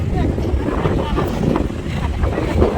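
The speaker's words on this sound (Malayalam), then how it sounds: "നല്ല കാറ്റാണ് കേട്ടോ ഇന്ന് അടിപൊളി കാറ്റ്" Strong, steady wind roars and buffets the microphone at the seashore, a constant loud rush with no pause.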